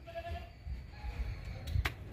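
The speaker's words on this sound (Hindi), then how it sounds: "कुर्बानी वाले बकरे हैं, लंबे चौड़े कानों वाला।" Sacrificial goats with long, broad ears, kept for sale as livestock, let out a few bleats in the middle distance over constant low rumble and background noise.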